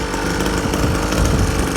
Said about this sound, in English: 50cc motor.